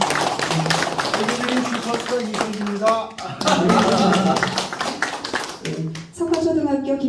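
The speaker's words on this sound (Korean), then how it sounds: "큰 박수 부탁드립니다." An audience at a book launch ceremony in Hongcheon applauds. Dense clapping runs under a host who keeps talking over it through the whole moment.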